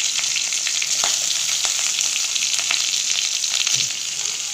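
Chopped onion frying in hot oil with mustard seeds and curry leaves for a Tamil toor dal chutney, a steady close sizzle with faint stirring clinks and a few pops throughout.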